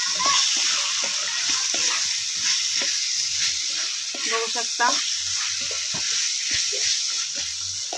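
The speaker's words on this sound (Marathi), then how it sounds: "हे जे सोयाबीन आहे त्याच्यामध्ये मी असं टाकणार आहे आणि पूर्ण असं नाही असं परतून घेणार आहे" Soybeans sautéing in hot oil sizzle and crackle loudly and continuously, with stirring scrapes and clinks throughout and a few quiet words spoken.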